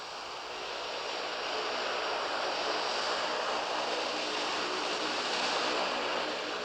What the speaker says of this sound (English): Soviet Antonov transport planes with loads of between 45 and 92 tons continue to bring supplies and equipment into Kabul